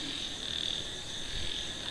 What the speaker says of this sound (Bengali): ব্যাঙের ডাক আর ঝিঝি পোকার ডাক